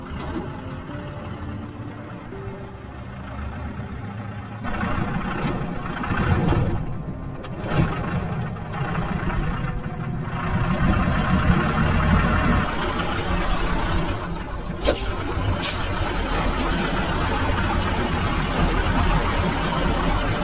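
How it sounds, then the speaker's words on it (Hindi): A heavy truck engine rumbles steadily and grows louder as it approaches on a road near a police checkpoint, a low continuous drone with no speech. "कोई भारी गाड़ी आ रही है, ट्रक लग रहा है"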